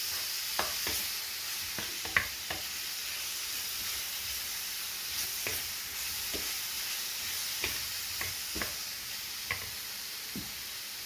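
A spoon scrapes and clinks as eggplant and beef are stirred in a hot pan, sharp irregular taps over a steady background sizzle, close up with no talking.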